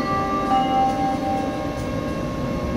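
A tram runs on rails with a steady low rumble and a sustained ringing, bell-like metallic tone, heard from on board without talk.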